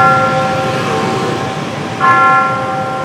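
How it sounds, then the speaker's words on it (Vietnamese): A church bell at Tan Dinh church in Saigon rings at night with steady, resonant tones that swell again after a brief dip, heard outdoors amid faint city traffic. "Cô bác anh chị có nghe tiếng chuông nhà thờ Tam Tịnh không?"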